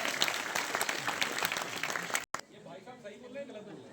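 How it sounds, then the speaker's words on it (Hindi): An audience claps loudly and continuously, then the applause cuts off abruptly and quiet background sound follows. "तालियां बजाइए इनके लिए।"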